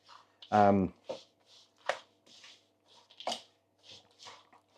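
Christmas pudding mixture with sultanas is worked by hand in a bowl, giving soft, sparse squelching and shuffling sounds close by, with a brief vocal sound near the start.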